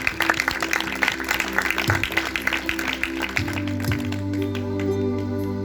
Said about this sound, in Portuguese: Um aplauso para Deus, por favor.